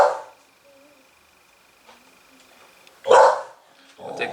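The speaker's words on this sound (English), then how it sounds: "sorry for the dog that's barking" A dog barks nearby in a few sharp, loud bursts separated by quiet gaps, with faint background hum.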